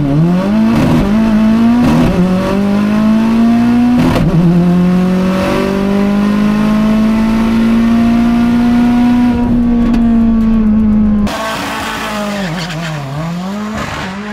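Subaru FA24-powered race car making a quarter-mile pass, its engine climbing steadily through the gears in a loud, sustained wail with brief shift dips and a sharp drop near the end as it backs off, no voices.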